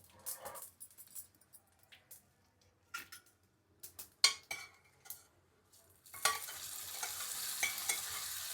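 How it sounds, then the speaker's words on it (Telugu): Spices being tempered in hot oil for a cashew-peanut chutney: scattered clinks and pops of stirring, then a sudden steady sizzle that keeps going until the end. "ఇలాగ పోపు వేసుకుంటే"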